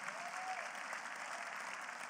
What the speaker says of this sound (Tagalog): Lakasan niyo yung palakpak niyo.